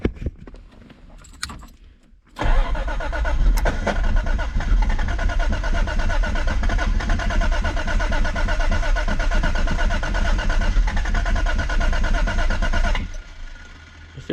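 After a head gasket repair, a car engine cranks and catches, with keys jangling first, then settles into a loud, steady idle rumble that runs for about ten seconds before cutting off.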